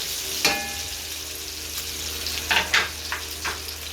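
Onions sautéing in a pan for pancit canton guisado, a steady close sizzle with a few louder crackles and stirring scrapes near the middle and end.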